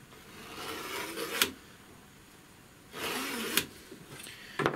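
An old electrical screwdriver guided along an engineer's square scribes a line on FR4 laminate sheet, heard as three separate dry rasping strokes, each ending in a brief sharp scrape, close and fairly loud against quiet background noise.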